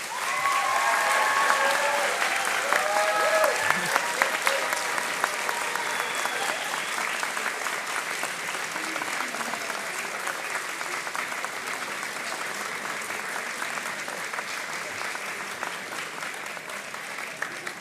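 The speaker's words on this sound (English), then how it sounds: "could you please give a big round of applause to your supporters?" A university convocation crowd gives a long, sustained round of applause for their supporters, dense and loud at first then gradually thinning and softening, with faint voices and cheers mixed in early on.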